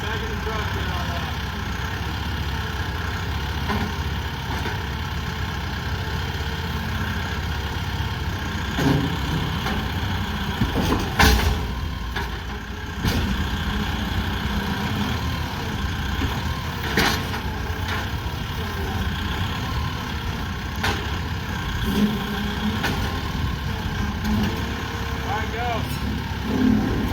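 A tractor engine idles with a low, continuous rumble while a 20-foot conex box is chained and pulled off a trailer. Occasional clunks and bangs break the drone, and people talk intermittently nearby.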